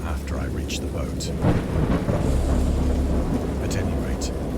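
A thunderstorm rolls through the horror game Dagon, with deep rumbling thunder swelling over a constant wash of rain, loud and close, with no other sounds on top.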